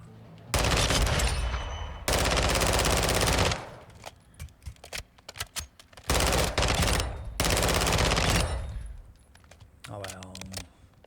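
Bursts of automatic weapon fire from a gun in Call of Duty Modern Warfare, long loud sustained volleys separated by shorter scattered shots and clicks, with someone speaking briefly near the end.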